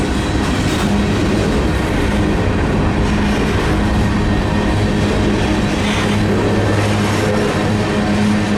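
A CSX M317 manifest freight train street running slowly through St Marys, West Virginia, with a steady, continuous rumble and faint clatter of rolling cars throughout and no voices.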